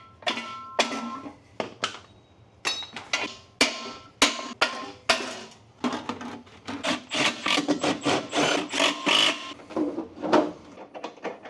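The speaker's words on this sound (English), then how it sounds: "I could take a hammer and knock these things out of place." Sharp metallic hammer knocks struck one after another in uneven bursts, some rapid and some spaced apart, close by with no talking, knocking rivets out of a Porsche 997 911 Turbo bumper.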